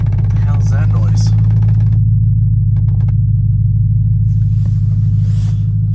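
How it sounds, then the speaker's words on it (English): A troubled car engine that keeps threatening to die runs with a loud, steady low rumble close by, broken by scattered clicks and odd mechanical rattles. "Car makes a lot of weird noises."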